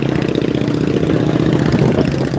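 Steady mid-pitched chugging of a trawler boat engine near the Sadarghat launch terminal, loud and close with a continuous throbbing rumble and no voices.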